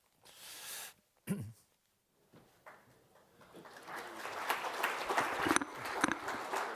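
Audience applause at a European policy conference plenary starts thin and distant with scattered claps, then swells into a steady, fairly loud wash of many hands clapping that continues to the end.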